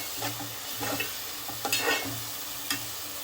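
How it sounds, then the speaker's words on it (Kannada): Boneless chicken fries with tomato and ghee in a pan, a continuous close sizzle broken by a few scraping stirs of a utensil against the pan. "ಇದನ್ನು ಚೆನ್ನಾಗಿ ಇವಾಗ ಫ್ರೈ ಮಾಡ್ಕೊಳ್ಳೋಣ"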